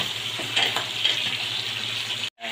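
Fish frying in oil at a street food stall serving fish curry and rice, a steady close sizzle with faint crackles, briefly cut off near the end before resuming.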